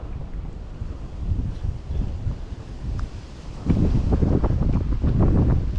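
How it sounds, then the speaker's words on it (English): Wind gusts roar across an open-air fishing spot, a rough low rumble that buffets the microphone and swells louder partway through. "Here comes the wind again."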